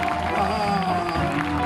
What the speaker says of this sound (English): Big round of applause for SaRon Crenshaw.